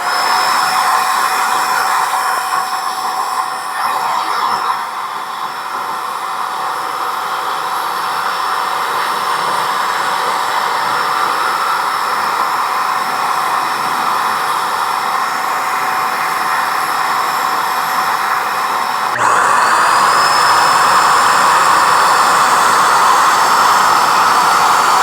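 An Alloyman electric paint sprayer runs steadily for the whole stretch, a loud continuous blowing hiss that shifts slightly louder and brighter near the end, with no talking.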